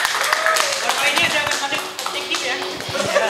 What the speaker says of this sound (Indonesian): Tepuk tangan buat Mas Faiz.